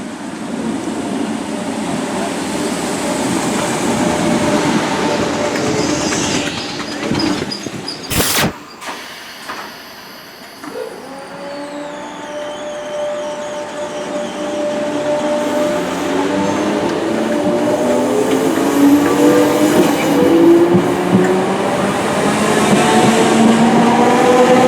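A Merseyrail Northern Line train moves through a station with rumbling wheels, a rising electric whine as it pulls away, and sliding doors clunking in the middle.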